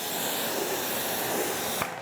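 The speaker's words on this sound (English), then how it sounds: "The water behavior on this, just by spraying it off, is back." A hose sprays water steadily across a ceramic-coated car, a continuous close hiss that cuts off abruptly near the end with a brief knock.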